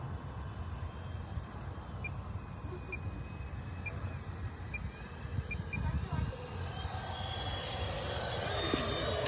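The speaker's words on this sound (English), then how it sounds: "I'm just going to do a normal slow flyby" A Freewing Gripen RC model jet makes a slow flyby, its electric ducted fan a steady whooshing hum that gradually swells louder as it approaches, with faint beeps and voices in the background.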